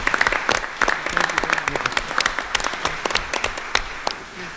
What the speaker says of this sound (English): I'd like to hear a round of applause for McMahon.